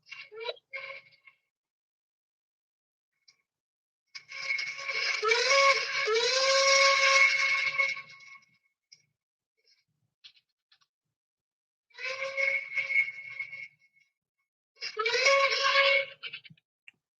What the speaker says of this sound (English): That's the sound of a West German hooter.